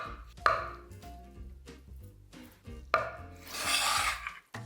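Kitchen knife dicing a block of extra firm tofu on a cutting board, with sharp, close chops at irregular intervals, then a brief scraping rub of the pieces.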